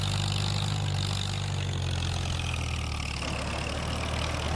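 A vintage tractor engine runs steadily in Farming Simulator 25, a constant low droning hum with a slight shift in tone near the end, loud and continuous with no talk.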